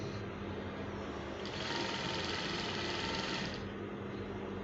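A sewing machine stitches fabric for a Fila-style African men's cap, a close, continuous whirring hum that speeds up slightly in the middle before easing back.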